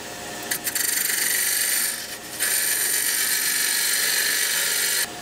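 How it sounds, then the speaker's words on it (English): A parting tool cuts into wood spinning on a lathe while a sword is turned: a close, steady rasping scrape with short breaks near the two-second mark and the end. "Just rub the back of the chisel and bring the parting tool in."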